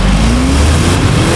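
A 2023 Range Rover Sport First Edition with its 4.4-liter V8 pulls hard at full throttle on winter tires and 23-inch wheels, a loud, steady engine roar with rising tone running unbroken throughout.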